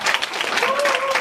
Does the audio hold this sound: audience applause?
yes